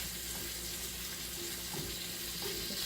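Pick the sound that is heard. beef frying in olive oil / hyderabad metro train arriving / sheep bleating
beef frying in olive oil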